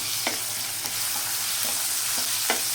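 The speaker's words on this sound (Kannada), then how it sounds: "ಈಗ ಹೆಚ್ಚಿಟ್ಟಿದ್ದ ಈರುಳ್ಳಿನ ಹಾಕ್ಕೊಂಡು ಚೆನ್ನಾಗಿ ಇದನ್ನು ಫ್ರೈ ಮಾಡ್ಕೊಳ್ಳೋಣ." Chopped onions fry with turmeric and ginger-garlic paste in a pan for methi chicken, giving a steady close sizzle broken by regular scrapes of a spoon stirring, with no talking.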